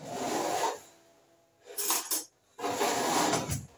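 A glass jar for mixed pickles is set down and shifted on a counter with short clinks and scraping rubs, close and moderately quiet, in a few separate bursts.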